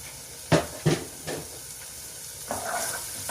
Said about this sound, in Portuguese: Só um pouquinho mesmo para dourar a cebola.